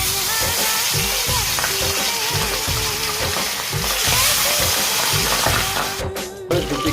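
Pabda fish frying in a pan: loud, dense, continuous sizzle close up, with rhythmic lower bubbling and a brief clatter near the end.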